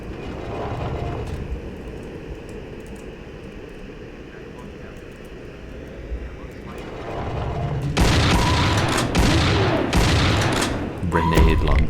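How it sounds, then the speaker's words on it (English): Heavy explosive booms and a rapid fusillade from a grenade launcher in a horror video game, loud and dense in the second half after a quieter rumbling stretch, with a voice talking over it. "Grenade launcher."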